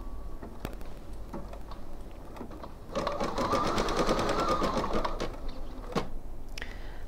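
An embroidery machine stitches out a design, a fast, steady mechanical chatter of needle strokes running for a few seconds, preceded and followed by scattered clicks and taps nearby.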